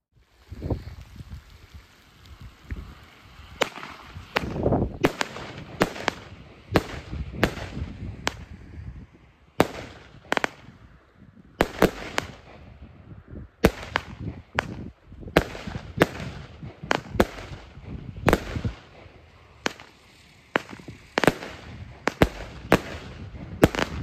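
A 25-shot firework battery of 20 mm salute shots fires outdoors, loud sharp bangs popping off in rapid irregular bursts with brief gaps, ringing alone without talk.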